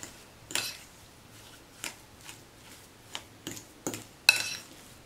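Boiled potatoes being mashed into a smooth cream, heard as a series of separate soft squishing scrapes and taps at irregular intervals, close by and moderately quiet, with no talking.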